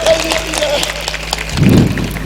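An audience claps at an outdoor Hindi poetry festival fair. The applause is a loud, dense, continuous patter that swells slightly near the end.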